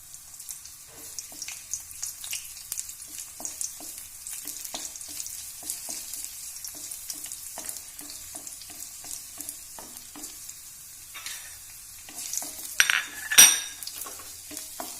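Raisins fry in a pan for Kerala-style uppumavu, a gentle crackling sizzle with frequent small stirring taps, then a louder burst of clattering near the end.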